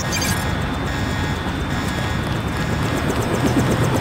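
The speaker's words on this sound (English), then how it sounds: "Take the helicopter back to base." A helicopter from the video game Deus Ex drones steadily and loudly through the whole stretch, a broad continuous engine and rotor roar with no talk over it.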